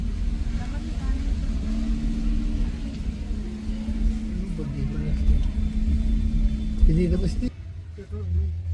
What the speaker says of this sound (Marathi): गाडी पण आतमध्ये पार्किंग करूया आता